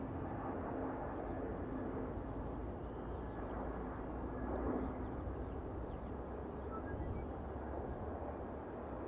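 An airliner on arrival into Amsterdam Schiphol from Athens produces a steady, broad engine roar that holds at a fairly constant level, with a slight swell near the middle, heard alone without voices.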